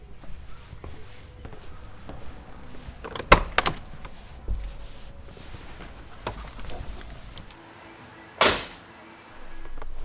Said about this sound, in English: Nice soft closing door sound for the G-Wagon.